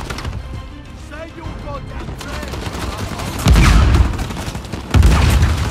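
Sniper gunfire in the video game Uncharted 4, loud booming shots near the middle and end of the stretch over a busy battle soundscape, with voices talking underneath.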